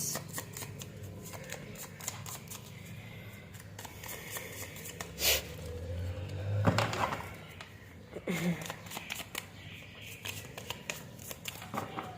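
Tarot cards shuffled close by, with soft riffling and papery flicks in irregular bursts and a few sharper snaps.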